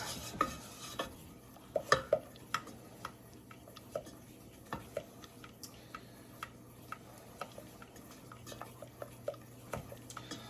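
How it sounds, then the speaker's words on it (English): A spoon stirs roux in a pan, with quiet scattered taps and scrapes against the metal ticking along irregularly over a faint low hum, no voices. "I'm just going to keep on stirring until we get all 4 stages"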